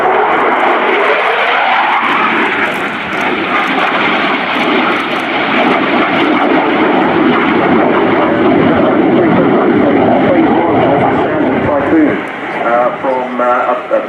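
A Eurofighter Typhoon FGR4 jet thunders through an air display at RIAT 2018, a loud, continuous, broadband roar that fills the whole stretch, with an announcer talking over it throughout.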